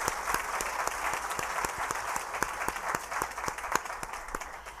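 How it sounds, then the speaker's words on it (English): An audience at a women-owned business day event applauds a host committee, with a continuous wash of clapping and sharp individual claps standing out near the microphone throughout. "let's give the host committee a round of applause to thank them for their support of WBDC"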